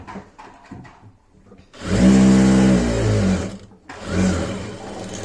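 Sewing machine running in bursts as it stitches the folded-over hem of a churidar sleeve, a steady close motor whir with a short pause before a second run; quieter handling before it starts.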